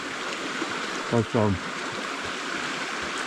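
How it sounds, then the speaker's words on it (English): A river runs in an outdoor stream in the Owyhee area of Oregon, a steady broad wash of flowing water heard throughout while a person briefly speaks. "Water's running."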